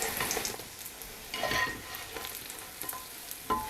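Fried eggplant pieces are lifted from a frying pan of hot oil, a steady close sizzle with short bursts of scraping and rustling as the pieces are moved out.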